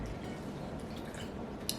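Water from a one-cup measure pours steadily into a bowl of boxed lemon cake mix and egg whites, a continuous soft splashing stream with a brief tap near the end, heard close with no talking.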